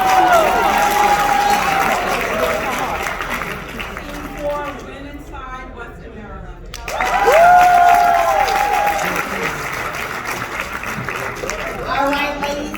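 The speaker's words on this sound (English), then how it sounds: "please give our VIP3s another round of applause" An audience at a Hyperverse event in a Crowne Plaza hall applauds VIPs with sustained clapping and some cheering, a loud crowd wash that fades midway and swells again, mixed with voices and an announcer.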